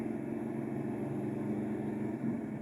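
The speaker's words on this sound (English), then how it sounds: "You fire the thing up, it starts right away, and the car sounds so crisp" Idling V8 of a 1963 Ford Shelby Cobra 260, a low, even burbling rumble with a quick pulsing beat, steady and moderately close.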